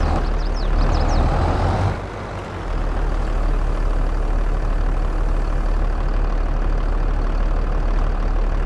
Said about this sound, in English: Have I driven this tractor before?